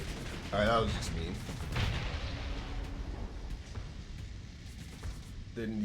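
A voltaic cannon fires during Starsector space combat, with booming shots and a trailing rumble, the loudest burst near the start, under other game sounds.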